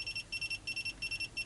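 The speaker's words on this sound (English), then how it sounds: "I've just calibrated and it's beeping like" An SEC E9 key cutting machine beeps in a rapid, regular series of short electronic pulses, about seven in a second and a half, heard alone at moderate to faint level.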